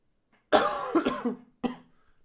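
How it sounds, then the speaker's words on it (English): A single person coughs, a harsh burst followed by a couple of quick rough follow-ups and a final short cough, close and fairly quiet against silence. "sorry about the strange coughing and things like that"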